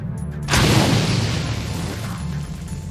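A grenade detonates in Shadowrun: Dragonfall as a single sudden boom that swells into a broad roar and slowly fades, with no voices over it.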